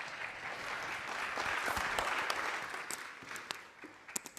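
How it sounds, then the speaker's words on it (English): Applause from an audience at an event on sustainable agrifood innovations, a moderate wash of many hands clapping with a few sharper individual claps near the end, fairly faint and distant. "Let's give him a big, big round of applause"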